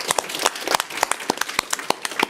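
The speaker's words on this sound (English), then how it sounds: "round of applause." An audience at a public lecture on school leadership breaks into brisk applause, with many close, sharp claps overlapping in an uneven, lively burst.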